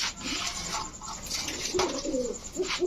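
Rajshahi Giribaj pigeons, a male and female pair, give soft low coos close by, a few short rounded calls amid rustling and scraping noises.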